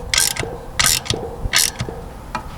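A ratchet wrench tightens bolts on a HughesNet satellite dish mount for an RV, giving three or four close bursts of rapid metallic clicking, with brief pauses between strokes.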